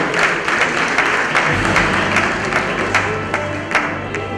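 An audience applauding at a philanthropy awards night, sustained, fairly loud clapping from a large crowd that continues for several seconds with a few sharper individual claps standing out.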